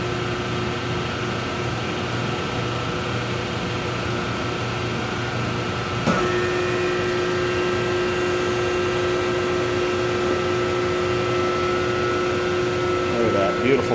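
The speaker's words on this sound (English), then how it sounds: "Machine's running nice and fast." A Taylor 751 three-phase air-cooled soft serve ice cream machine running, a steady loud mechanical hum with a motor tone and fan-like whir that steps up slightly partway through, continuous throughout and heard up close.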